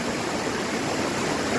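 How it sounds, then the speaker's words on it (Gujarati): Waterfall stream flowing at Osam hill near Patanvav, a loud, steady, dense rush of water with no pauses and no voices. "તાજું તાજું આમ તો પાણી કેવું સરસ જાય છે."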